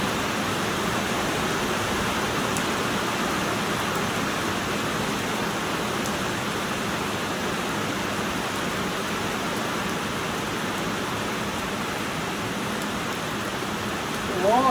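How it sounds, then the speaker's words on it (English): Steady, loud rain falls outdoors as an even hiss that continues for the whole stretch, with no other clear sounds. "And here comes the rain."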